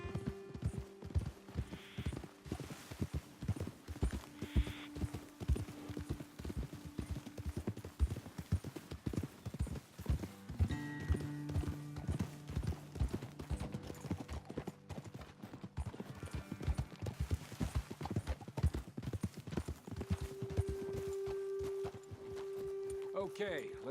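Horses' hooves clip-clop steadily in Red Dead Redemption 2 as riders move along a trail, the rhythmic footfalls continuing throughout beneath occasional talk and quiet background music.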